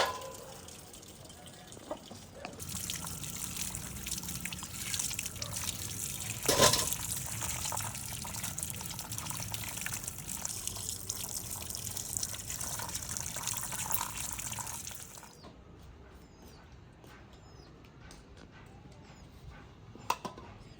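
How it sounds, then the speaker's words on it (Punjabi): Tap water runs steadily while potatoes are washed in a village kitchen, a close continuous gush for about thirteen seconds, with a clunk partway through, then quiet drips and handling once the flow stops. "ਇੱਧਰ ਨਾ ਆਲੂ ਜਿਹੜੇ ਆ ਨਾ ਉਹ ਧੋਵਾਂਗੀ"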